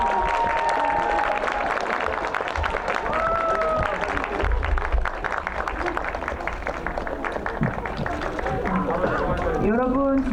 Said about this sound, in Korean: 이쪽으로 퇴장하시는 동안 박수로 보내드리도록 하겠습니다.